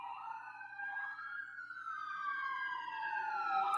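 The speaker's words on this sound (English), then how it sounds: "All these damn sirens and stuff at 3 o'clock in the morning" Emergency siren wailing at 3 or 4 o'clock in the morning, a rising and falling tone heard from a distance that gradually grows a little louder.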